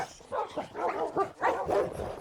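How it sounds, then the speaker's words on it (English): Minecraft temperate wolves from the Aesthetic Update yapping and barking in a busy overlapping chorus, higher-pitched barks mixed with a few short yowls, fairly close and continuous. "I'm gonna just spawn in a ton of temperate wolves here."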